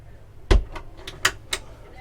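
Cabin doors on a Shogun 43 yacht slide across and shut, giving a heavy close thud followed by several lighter knocks and clicks in quick succession inside a quiet cabin.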